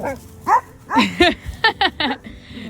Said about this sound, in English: She's a very, very vocal dog.